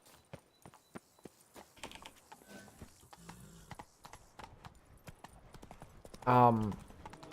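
Horse hooves clip-clopping in The Witcher 3: Wild Hunt, a steady run of soft close footfalls, with a short horse whinny near the end and quiet talk underneath.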